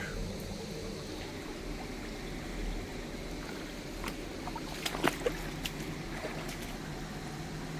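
A small cold-water stream feeding the Çubuk 2 dam flows steadily outdoors, a broad continuous rush heard close by with a few faint clicks near the end.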